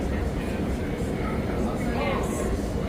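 A Sydney Metro train rumbles at the underground Victoria Cross platform, a dense, steady low roar with brief higher tones over it, while a person talks close by.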